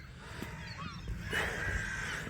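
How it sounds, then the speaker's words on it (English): Geese honk at close range outdoors, several harsh calls overlapping at a scrap metal collection site, over a constant rumble of wind and background noise. "Getting attacked by the birds here, guys."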